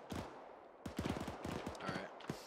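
A big gun fires in the military video game Arma 3, a rapid burst of sharp shots followed after a short gap by a longer rattling volley of repeated cracks, loud and close.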